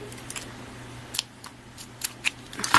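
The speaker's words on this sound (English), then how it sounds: "I'm going to cut my" Scissors snipping two braided bracelet cords: a few light, sharp snips spread unevenly across a quiet background hum, close and faint.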